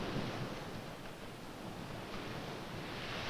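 Surf washing steadily onto a sandy beach at high tide, a broad continuous roar of breaking waves with light wind noise and no distinct individual crashes.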